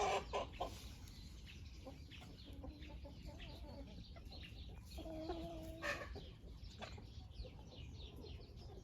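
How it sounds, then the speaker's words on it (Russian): A Faverolles rooster clucks and murmurs in short, soft bursts amid faint farmyard background noise, with quiet rustling throughout. "Это петушок фавероль"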